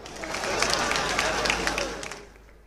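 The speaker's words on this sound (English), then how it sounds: "a round of applause for him." Crowd applause at the coronation of the Oba of Benin, a dense wash of many hands clapping at moderate distance, swelling and then tapering off over a few seconds, with crowd noise mixed in.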